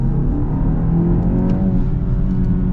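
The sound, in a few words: 2025 BMW X1 4-cylinder car accelerating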